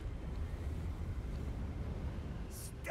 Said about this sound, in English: Damn, it's windy out here.